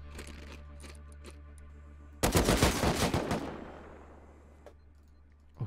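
Rust auto turrets open fire in a loud, dense burst of rapid gunfire that starts abruptly and rattles on for about two seconds before tapering off, followed by a short sharp shot at the end.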